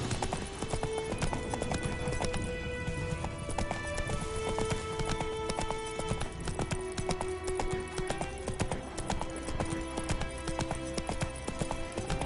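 A horse gallops in The Witcher 3: Wild Hunt, its rapid rhythmic hoofbeats steady and close throughout over a bed of game music and ambience.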